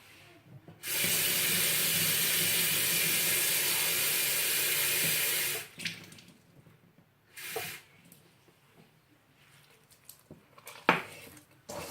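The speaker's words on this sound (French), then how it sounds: "surtout vous rajoutez toujours l'eau petit à petit jusqu'à ce que le mélange, la boule se prenne bien" Water pours steadily from a tap for about five seconds in a kitchen while msemmen dough is being made, a loud, even hiss that cuts off sharply, followed by quieter clinks and handling noises.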